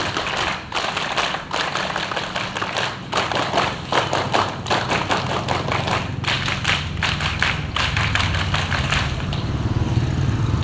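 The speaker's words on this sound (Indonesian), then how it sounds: "Tepuk pramuka 3 kali." Scouts at an elementary school Scout Day ceremony clap the rhythmic scout clap, a loud group of sharp clap bursts in patterned runs that repeat across several rounds, with no talking.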